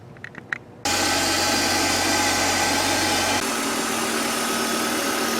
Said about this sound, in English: Then I like to run the engine and then bleed it out here